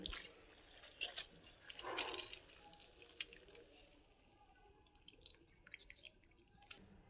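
Water drips and splashes as soaked soybeans are squeezed hard by hand in a kitchen, giving a few close, irregular bursts of trickling with quieter gaps between them.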